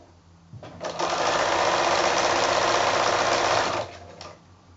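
A sewing machine runs in one sustained burst of rapid, even stitching while machine-binding the edge of a quilted placemat, starting abruptly, holding steady for about three seconds, then stopping, with quieter handling sounds around it.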